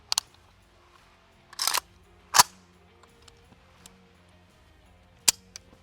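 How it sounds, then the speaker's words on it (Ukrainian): A Kalashnikov rifle's mechanism being checked for unloading gives a few sharp, isolated metallic clicks and clacks spaced across several seconds, close and crisp against near silence. "Перевіряємо зброю на розряженість."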